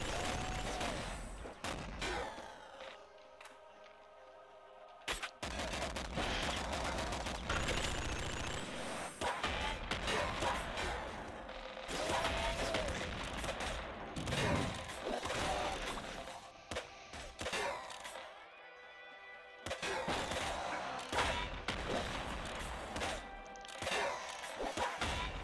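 Heavy machine gun fire in the top-down shooter Nuclear Throne, with rapid, loud bursts of shots and impacts recurring through a busy stretch of game noise and effects.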